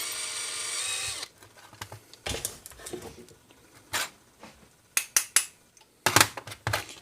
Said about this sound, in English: you don't want to just go hammering down the drill in there